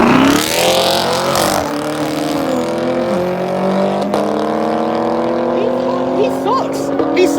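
A red sport car and an LT1 car race, their engines revving and whining up through the gears in a loud, continuous roar, with a voice talking over part of it.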